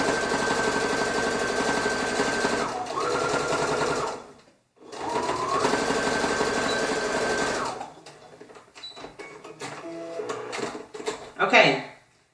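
Sewing machine stitching a dart on a shirt back, two long runs of steady whirring motor hum broken by a short pause, then quieter handling clicks and a sharp clack at the end.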